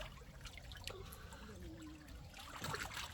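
Water from a newly dug deep well trickles and splashes steadily at a fairly close distance, a continuous wash of liquid noise that swells slightly toward the end.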